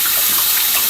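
Cold tap water runs steadily into a kitchen sink, a close, even rushing hiss with no voices.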